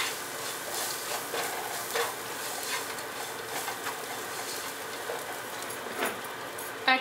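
Turmeric, coriander, red chili and cumin powders are stirred into onion masala in a hot pan for paneer masala: repeated scraping strokes over a soft, continuous sizzle.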